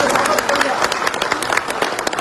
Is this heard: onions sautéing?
no